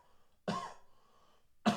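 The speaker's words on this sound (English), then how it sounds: "I have a bad cough" A single sharp cough rings out close to the mic, then a brief low trailing rasp and a second abrupt cough at the end, with no talking.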